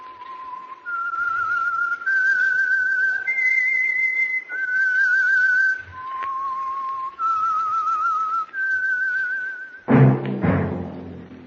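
A melodic whistled tune of sustained, shifting notes plays clearly for about ten seconds, ending with a brief burst of noisier sound.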